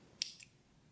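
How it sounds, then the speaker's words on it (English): A single crisp snip of scissors cutting through crochet yarn, close and quiet, followed by a fainter second click of the blades, with no talk. "so I'm gonna cut my yarn right here"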